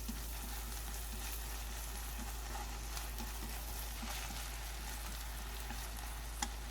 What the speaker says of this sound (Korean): 팬에 식용유를 조금 넣고 소고기 다짐육을 넣어서 볶아줍니다